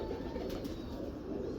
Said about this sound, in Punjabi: ਟੈਡੀ ਕਬੂਤਰ ਨੇ ਤੈਨੂੰ ਬੜੇ ਹੀ ਬੱਚੇ ਉਡਾਏ ਜਨਾਬ